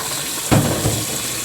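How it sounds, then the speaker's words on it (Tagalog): Cold tap water splashes out briefly to fill a container for soaking a boiled egg, a short close burst of running water that fades within about a second. "Lagyan natin ng tubig na malamig"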